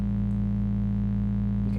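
A synthesizer holds one steady low tone with vintage-style distortion, a buzzing, harmonically rich drone that stays loud and unbroken throughout.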